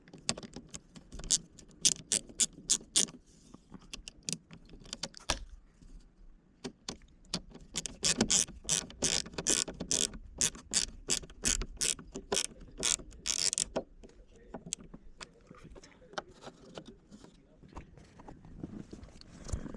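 A ratcheting hand tool clicks in quick, irregular bursts as sunroof fasteners are tightened on a 2013 Honda Civic Si, with metallic clatter between runs; close and moderately quiet, no talking.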